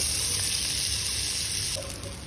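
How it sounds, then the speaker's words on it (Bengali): Shrimp sizzling in hot mustard oil, a steady close hiss of frying that stays even and alone, with a slight drop in level near the end. "এই যে চিংড়ি মাছগুলো আমি সব তেলের মধ্যে দিয়ে দিলাম আর এটা দুই সাইড হালকা মিডিয়াম করে ভেজে নেব"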